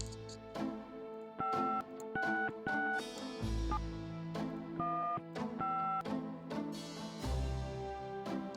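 Telephone keypad tones as a number is dialed in the Gabriel Knight adventure game, a quick series of distinct beeps in irregular rhythm over soft background music.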